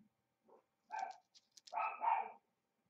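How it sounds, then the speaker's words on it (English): A dog barks indoors, a few sharp close yips and barks in quick succession, fairly quiet, with no talking over them. "Belle, stop barking"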